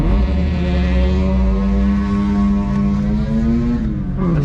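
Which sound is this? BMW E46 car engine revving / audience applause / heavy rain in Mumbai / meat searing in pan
BMW E46 car engine revving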